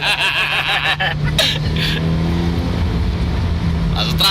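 Engine of a Mitsubishi Lancer Evo X droning steadily while driving, heard from inside the car with a constant low hum and occasional rising revs, as people talk over it.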